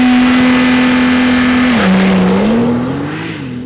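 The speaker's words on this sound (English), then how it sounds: "2021 Porsche 911 Turbo S. With launch control." A 2021 Porsche 911 Turbo S with its 3.8-liter twin-turbo flat-six launches hard under launch control, the loud engine note holding steady, dipping at a gear change and rising again as it pulls away.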